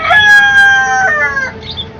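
Country chickens raised on a rooftop, a rooster crowing loudly and close in one long drawn-out call with a few short clucks and squawks at the start and end.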